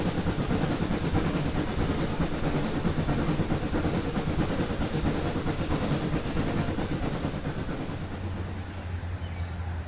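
Shay geared steam locomotive of the Cass Scenic Railroad rumbling along slowly, a steady dense chugging and rolling rail noise that stays loud and close throughout, easing off slightly near the end with a low steady hum.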